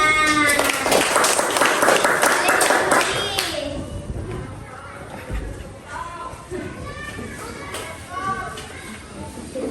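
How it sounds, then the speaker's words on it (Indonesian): Schoolchildren in a fourth-grade classroom clap their hands in a loud, dense burst for the first few seconds, then the clapping thins out and fades under a teacher's voice and classroom chatter. "tepuk tangan."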